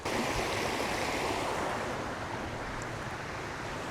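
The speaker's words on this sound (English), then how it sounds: "there's something about the sound of running water" A stream of running water rushes steadily in the Scottish hills on a rainy camping trip, a continuous broadband wash, close and loud, with a faint whoosh of wind and no voices.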